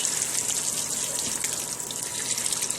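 Water hisses and gushes steadily through the pressure relief vent of an RV water heater as the line is bled, a loud, continuous rush with no pauses.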